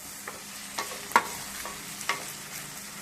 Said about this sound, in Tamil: தக்காளி கொஞ்ச நேரம் வதங்கணும்